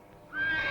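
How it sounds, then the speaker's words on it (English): A horse neighs close by, the whinny rising suddenly and holding loud and bright to the end of the short moment. "Quiet that horse, Pronto."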